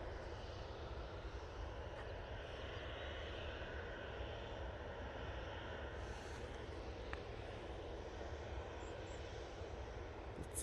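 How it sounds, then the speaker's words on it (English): An Aer Lingus Airbus A321XLR approaches to land at Manchester Airport, its engines a steady distant broadband roar that stays even throughout with no voices. "Do have the Aer Lingus 321 XLR making its way towards us."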